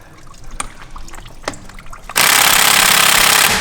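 A Snap-on impact gun on a stubborn nut: a few faint clicks and bumps, then a loud continuous hammering rattle of the gun for over a second before it stops.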